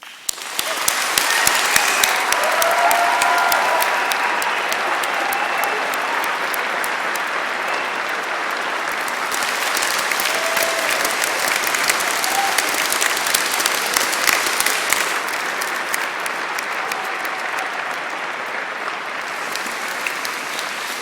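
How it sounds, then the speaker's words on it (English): A large audience at a university graduation ceremony applauds steadily and loudly, a dense wash of clapping that holds for about twenty seconds with no pause. "a well-deserved round of applause"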